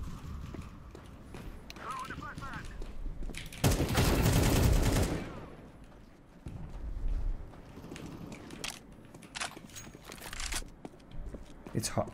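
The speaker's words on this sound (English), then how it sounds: "I'm shooting at the head." Gunfire in Counter-Strike 2 during a matchmaking game, with scattered shots and a loud, dense burst of fire in the middle, heard alongside footsteps and other game sounds.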